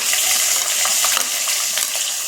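Garlic sizzling in hot oil with fenugreek seeds in a pan while making paruppu urundai kuzhambu, a steady bright frying hiss with light crackles and stirring, close and fairly loud.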